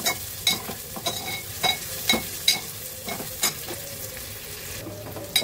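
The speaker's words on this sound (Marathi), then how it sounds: "बघितली मस्त असा कांदा आपण शिजून घेतोय." Onion cooks in a hot pan with a pinch of asafoetida, making a close, continuous sizzle. A spoon stirs and scrapes in regular bursts and knocks against the pan, with no talking.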